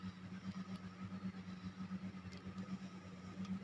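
A benchtop vortex mixer whirs steadily in a biochemistry lab, its motor giving a close, even hum with a fast pulsing wobble as the mixture spins.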